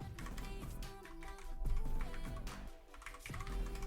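Brisk typing on a computer keyboard, a steady run of close, clicky keystrokes with no voice over it.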